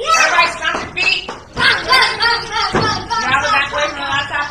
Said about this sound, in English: Everybody stomp your feet.